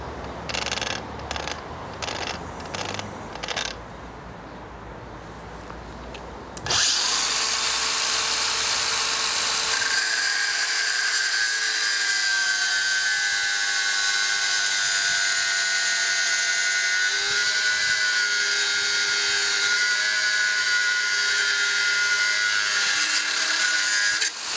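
A Makita DGA504 cordless brushless angle grinder spins up after a few short taps and handling noises, then runs as a loud, sustained, high-pitched whine that holds steady and close for the rest of the clip.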